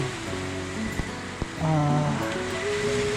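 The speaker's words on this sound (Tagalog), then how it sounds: "hampas ng alon" Ocean waves wash onto a shore at night with a steady broadband roar, swelling louder midway, with a couple of faint knocks and insect-like tones underneath.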